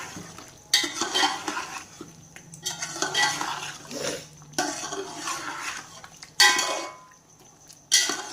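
Chicken pulao masala frying in a pot while being stirred, loud bursts of sizzling with repeated metal spoon scrapes and clanks against the pot, in uneven waves over a quieter frying hiss.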